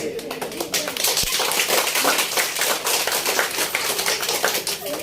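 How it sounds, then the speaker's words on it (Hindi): Wedding guests at a restaurant in Sardar Market, Surat, break into loud, dense clapping that runs the full length, crisp overlapping claps with a few sharper hits. "अब तक जितनी ताली हुई उससे खतरनाक ताली होनी"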